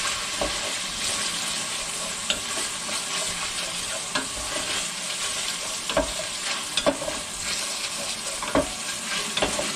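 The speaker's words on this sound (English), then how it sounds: "Stirring, stirring, stirring." Carbonara sizzles in a frying pan while being stirred, producing a constant frying hiss with irregular scraping clicks and taps of the utensil against the pan, close and clear.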